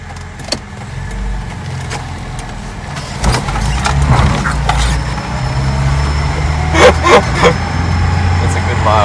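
A 1991 Lada Niva 1600 ute engine drives at low speed on light throttle, a steady close rumble in the cabin with a few revving surges toward the end, under intermittent talk.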